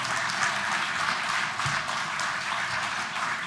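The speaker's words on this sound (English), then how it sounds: "Big round of applause, please, everybody." A press-conference audience claps in a dense, steady round of applause that stays even across the whole stretch, moderately loud with no talk over it.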